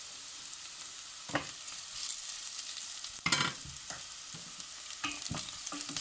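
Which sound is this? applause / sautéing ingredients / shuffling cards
sautéing ingredients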